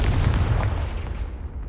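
Confringo blast spell firing in Hogwarts Legacy, a single loud booming burst up close that rolls off into a fading rumble.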